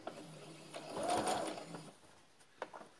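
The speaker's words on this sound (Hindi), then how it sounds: "अब सिलाई देंगे" Sewing machine stitching three layers together for a salwar belt: base fabric, a strip and buckram on top. Steady mechanical whirring runs near and moderately loud for about a second, with lighter clicks before and after.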